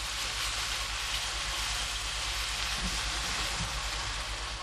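Minced onion frying in melted butter in a pan makes a dense, even sizzle and crackle that stays steady and fairly loud throughout, with no voices.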